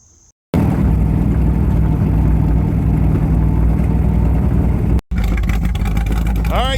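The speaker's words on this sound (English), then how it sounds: "She is running, she's idling, sounding good, burning a little bit of oil off." A Chevrolet C3 Corvette engine idles steadily after cam break-in, burning off a little oil; a loud, continuous low rumble runs for several seconds, briefly cut off near the end before resuming with faint voices.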